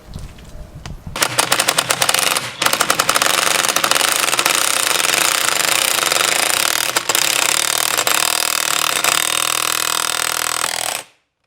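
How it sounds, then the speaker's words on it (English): Air-powered press tool driving an upper ball joint into a van steering knuckle, a loud rapid hammering rattle that runs nearly continuously for about ten seconds with brief breaks, then stops abruptly. "I'm gonna press in our last upper ball joint here"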